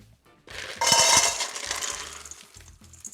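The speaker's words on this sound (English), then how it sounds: "I'm gonna add ice." Ice cubes clatter loudly into a stainless steel bowl, a burst of bright clinking that settles into scattered rattles.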